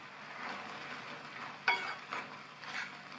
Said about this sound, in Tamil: உப்பு சேர்த்து நல்லா கலந்து விட்டாச்சு